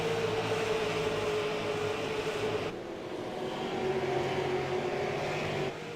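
Stock cars racing side by side at Irwindale Speedway, engines roaring steadily and loudly throughout, with a brief dip in the middle as the pack's note shifts before building again.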